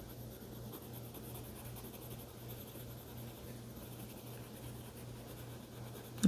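Colored pencil shades across paper in dark brown, a steady close scratchy rasp that continues without pause, soft and even throughout, with no talking.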